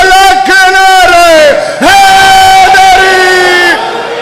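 A crowd at a Jashan e Ghadeer religious gathering in Garbala Syedan, Sialkot, loudly chants slogans in unison. Two long shouted phrases ring out close and strong, with a short gap between them.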